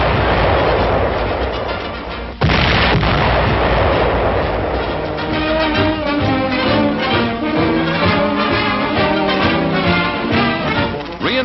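A large military mortar fired by remote control lets off a single powerful blast in a vintage newsreel; a loud boom cuts through the dense soundtrack, followed by steady, tonal music-like sound.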